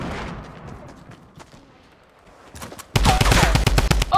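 Gunfire in the Fortnite battle royale game, with sparse scattered shots early, then a loud close burst of rapid automatic fire sustained to the end.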